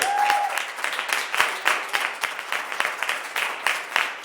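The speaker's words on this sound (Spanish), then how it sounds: "Vamos, aplaudir al Rey de la Gloria." A church congregation claps during a Spanish-language Sunday service, the clapping falling into a rhythmic, beat-like pattern of sharp claps, fairly loud and near, with no talk over it.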